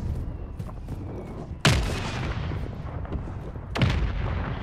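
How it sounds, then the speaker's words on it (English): Two heavy mortar blasts from a hostile strike in Warzone 3 boom loudly a couple of seconds apart, each a sharp crack that rolls off into a long rumble, over a low background din. "Hostile mortar strike in the area."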